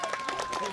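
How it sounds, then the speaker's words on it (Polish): Brief burst of audience clapping and cheering for a nine-year-old girl singer, a dense patter with voices mixed in, lasting under a second. "No i brawa dla niej, mocne!"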